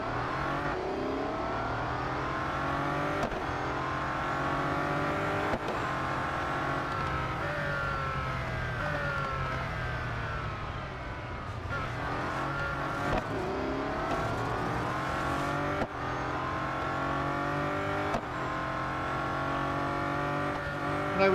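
A Bugatti Centodieci engine roars continuously in the Real Racing 3 racing game, rising and falling in pitch as it revs and shifts through gears, loud and steady with no talk.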